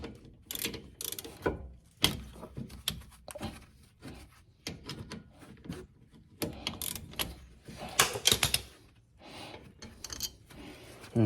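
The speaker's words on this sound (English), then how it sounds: "all you need is a 14mm socket and a wrench" A 14mm socket and wrench work the rear brake bracket bolts on a 2010 Kia Soul, giving quiet, irregular ratcheting clicks and metallic taps close up.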